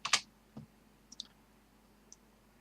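Computer keyboard keys clicking as a /spawn command is typed for a Minecraft server: a quick cluster of crisp clicks, then a few sparse, lighter key taps spread out, close and fairly quiet with no talking.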